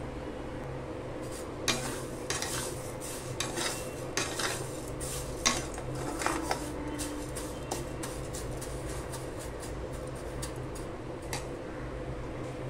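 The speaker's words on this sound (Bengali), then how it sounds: "তাও আমি আর একবার ভেজে নেব সিমুইটাকে।" Already-fried vermicelli is fried again in a pan and stirred, giving a soft sizzling hiss with repeated scraping and clinking from the utensil against the pan.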